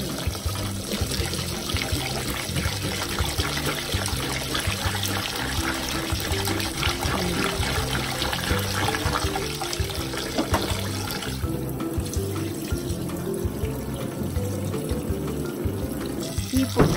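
Tap water runs steadily into a bowl while Japanese rice is washed, a continuous close splashing and trickling that changes slightly in tone partway through as the flow and stirring shift.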